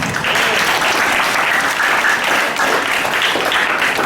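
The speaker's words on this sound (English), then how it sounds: "we need to give David Beckham a round of applause" Loud, sustained applause from a large audience fills the whole stretch, dense and steady without letup.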